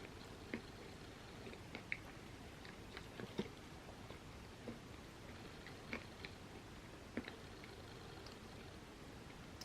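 Someone eats vegan edible cookie dough from a spoon, with faint close chewing and small soft clicks and squishes at an irregular pace over quiet background noise.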